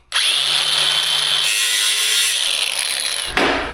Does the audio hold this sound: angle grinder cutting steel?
yes